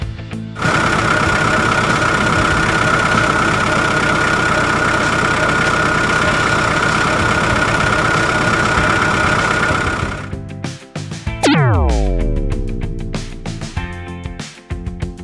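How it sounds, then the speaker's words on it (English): A truck engine idles as a loud, close, steady drone for about ten seconds, then cuts out and a falling whine winds down in pitch. "A truck."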